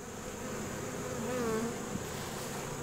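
Honeybees buzz over a hive brood frame in late October, a close, steady droning hum with a few individual bees whining past, no talking.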